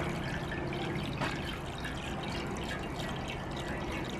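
Fresh water pours and trickles into a nearly full bird drinking container, a steady close splashing with small drips and a brief knock early on.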